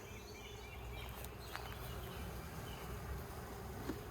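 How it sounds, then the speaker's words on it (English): A hive box full of honey bees gives off a soft continuous buzzing hum, steady and faint throughout with a few small knocks. "Just a bunch of bees"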